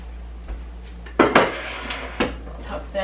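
Ceramic white bowls clink and clatter as they are set down and stacked on open kitchen shelves, a few sharp knocks in quick succession, close and fairly loud, with no talk.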